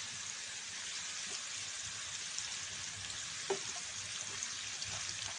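Onion and garlic paste fries steadily in a pan with a continuous bright sizzle, one sharper crackle standing out midway, no voices over it.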